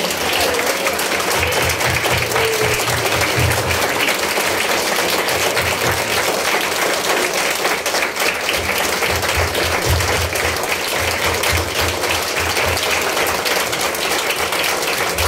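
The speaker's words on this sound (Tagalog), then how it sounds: "Pwede ba natin palakpakan ng Panginoon" Sustained congregational applause fills a Filipino church service, loud and dense from start to finish, with steady overlapping claps and faint voices beneath.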